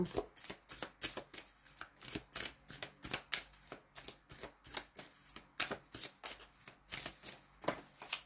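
Tarot cards handled and falling onto a table during a reading, a fast run of crisp, close card flicks and slaps repeating steadily throughout.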